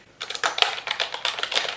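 Rapid, uneven clicks of typing on a clicky mechanical computer keyboard, fairly close and crisp, with bursts of keystrokes running steadily for under two seconds and no voices.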